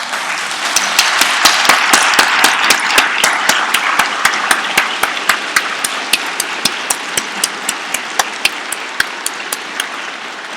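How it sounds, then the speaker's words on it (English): A lecture audience gives a sustained round of applause lasting about ten seconds. Dense clapping fills the room, with sharp individual claps standing out as it slowly thins. "let's give him a round of applause"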